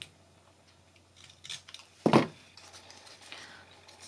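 Scissors snip away a paper flap on a small 3D paper truck, one crisp close cut in the middle with lighter handling rustles before and after.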